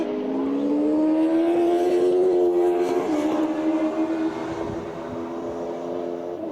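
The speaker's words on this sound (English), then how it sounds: "Mike Connolly away now again, spinning up the wheels on the tyres on the way out of the pit there" Formula BOSS race car at Mondello during qualifying, spinning its wheels on the way out of the pits; a loud, steady engine drone with a strong tonal whine that rises slightly and holds, no talk.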